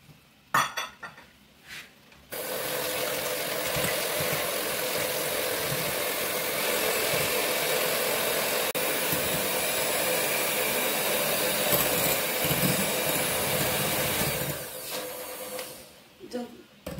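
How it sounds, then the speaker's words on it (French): Electric mixer whipping egg whites with sugar into foam for a chocolate cake, a loud continuous whirring drone that starts abruptly after a few knocks and runs steadily for about twelve seconds before cutting off. "je vais mélanger les blancs d'œufs avec le sucre jusqu'à obtention d'une mousse"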